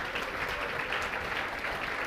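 A classroom audience gives steady, dense applause to welcome a general studies teacher from Prayagraj, a continuous wash of clapping with no talk.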